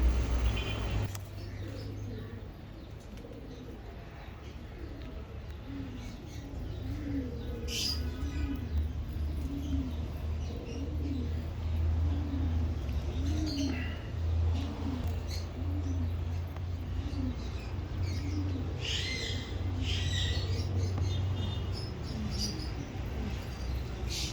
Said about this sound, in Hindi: कबूतरों का Avery, a huge Avery for pigeons